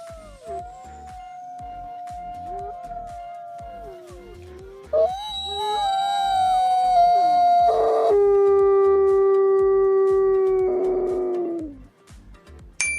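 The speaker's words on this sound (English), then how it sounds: "Wolf communicating with another pack." A wolf howls in long sustained tones that rise and fall, with a second voice joining partway through, loud and clear with no talking, as if calling to another pack.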